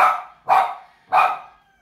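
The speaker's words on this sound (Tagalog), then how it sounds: "huwag nyo nalang pansinin yung aso na maingay" A dog barks three times, loud and close, each bark sharp with a short trailing tail, spaced about half a second apart.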